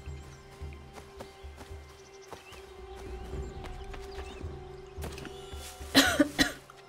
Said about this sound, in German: Jetzt nicht mit Husten anfangen